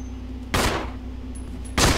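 Two loud gunshot blasts in the Resident Evil Code: Madman demo on PC, one at roughly half a second and another near the end, each ringing over a steady low game ambience.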